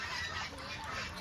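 Large waterfowl, swans or geese, at a temple pond in Lunsapur, giving faint nasal honking calls against a steady outdoor wash of background noise.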